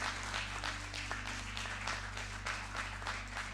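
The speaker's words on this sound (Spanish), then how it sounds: "Dale un aplauso al Señor." Church congregation clapping in praise during a sermon, a steady rhythmic patter of many hands over a constant low electrical hum, moderately quiet and without talk.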